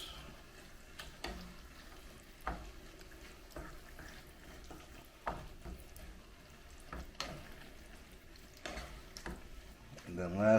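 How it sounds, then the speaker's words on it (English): Soft, intermittent scraping and wet stirring as pumpkin puree is mixed into oil-free vegan black bean soup in a pot, with faint clinks of the utensil against the pot and a quiet voice talking now and then. "Alright, so now we'll just add the puree, the pumpkin puree. Get that in there. Give it a good mix."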